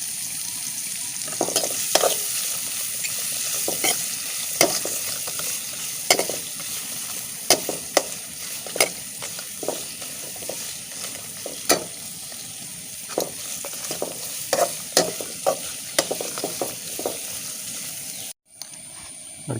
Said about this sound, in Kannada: ಇವಾಗ ಇದನ್ನು ಕೂಡ ನಾವು ಚೆನ್ನಾಗಿ ಎಣ್ಣೆಯಲ್ಲಿ ಫ್ರೈ ಮಾಡಿಕೊಳ್ಬೇಕು.